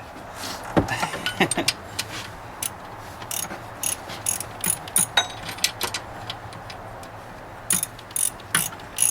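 A socket wrench ratchets on a pulley bolt of a 2001 GMC 1500 pickup during serpentine belt and pulley replacement, with rapid clicking bursts and pauses throughout, close and fairly quiet.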